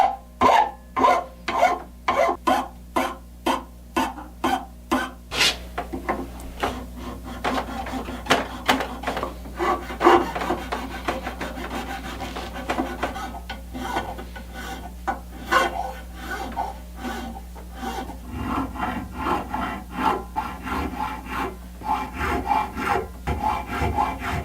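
Rhythmic rasping strokes of a file shaping the saddle of a soprano ukulele, close and distinct, starting in regular even passes then becoming quicker and more irregular, with no talk.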